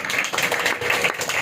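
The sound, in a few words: congregation clapping loudly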